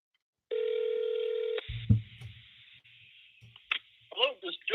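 Telephone call on an unanswered line: a steady electronic dial or ring tone holds for about a second, followed by brief clicks and dialing blips, with faint voice-like sounds near the end.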